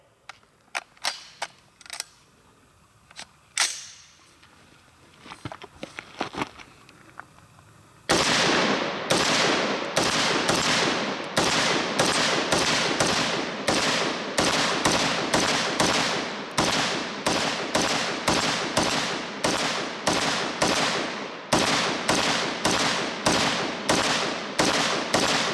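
Rapid string of loud, sharp rifle shots from an HM Defense Commander MB5 AR-15 fired at steel targets, after a few scattered quieter shots and handling sounds at first, then sustained fast firing with no talking.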